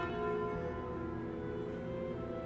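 The Curse of the Bell relic in the video game Slay the Spire gives a single deep, sustained church-bell toll. It rings out loud and resonant and hums steadily for a couple of seconds with no voice over it.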